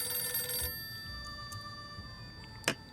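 Telephone ringing inside the video game 60 Seconds! Reatomized, a short bright electronic ring burst at the start followed by a brief ringing chirp near the end, faint against a quiet game background.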